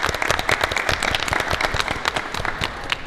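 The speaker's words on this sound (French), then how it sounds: "On peut l'applaudir bien fort" A television studio audience in Martinique claps loudly for an arriving guest, a rapid, dense patter of individual hand claps sustained for a few seconds with no talking.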